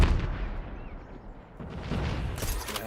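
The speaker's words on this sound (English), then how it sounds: "nades are flying out" Grenade blasts in Call of Duty: Mobile during a competitive esports match, heavy booming bursts of explosions and gunfire running through the clip with a denser loud stretch toward the end.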